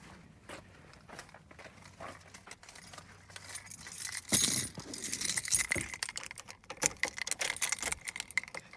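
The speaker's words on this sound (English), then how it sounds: "let's put the key in the ignition" Keys jangle and clatter close by, then a louder metallic scrape and rattle as a key slides into the ignition of a 2000 Ford Ranger, followed by more jingling.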